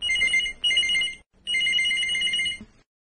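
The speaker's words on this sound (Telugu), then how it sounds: "అమ్మా, ఫోన్ ఎవరో చూడు." A telephone in a radio play rings in two loud, clear electronic trills separated by a short pause, with no voices over it.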